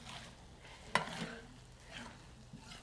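Vegetables being stirred in a frying pan, with a sharp utensil scrape against the pan near the start over a soft, steady sizzle of frying; no talking.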